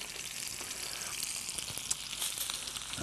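Seasoned bluefish sizzling as it cooks on a grill, a steady close hiss of frying with scattered small pops and crackles, no talk.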